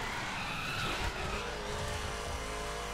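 A drift car in the racing video game The Crew on PC, its engine roaring continuously while the tires squeal and skid, loud and close throughout.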